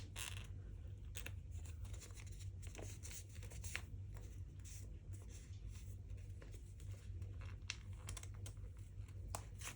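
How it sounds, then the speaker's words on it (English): Stickers are peeled one by one from a sticker sheet for birthday journaling, making faint, close crinkling and scratchy peeling sounds over a steady low background hum. "These are not the easiest stickers to get out of there."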